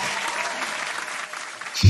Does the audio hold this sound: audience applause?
yes